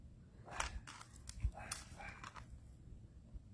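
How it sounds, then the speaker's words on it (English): A small, yappy dog gives a few sharp barks and yips, clustered near the start and around the middle, close by and moderately loud over a soft room background. "I swore I wasn't going to have a yappy dog."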